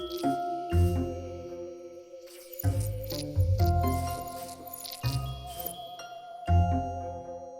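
Minecraft night-blooming flower plays its ambient sound in the video game: soft chiming, bell-like tones repeating in short rhythmic bursts with low thumps, fairly close and clear, no talking.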